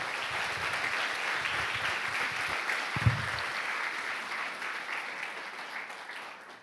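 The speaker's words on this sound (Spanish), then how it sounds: "Dale ese aplauso al Padre." A church congregation applauds steadily throughout, a dense even wash of clapping at moderate level with a brief louder thump near the middle, no talk over it.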